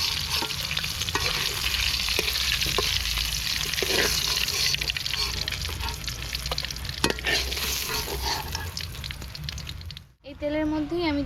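Hilsa fish frying in hot oil, with a loud continuous sizzle and crackle and scattered spatula scrapes, then a brief dip and a burst of spitting at the end.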